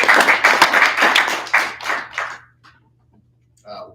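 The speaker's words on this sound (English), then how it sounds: "With that, round of applause for Tim." Applause for a student government debate candidate: a small group claps briskly for a couple of seconds, then it fades to near silence and talk briefly begins.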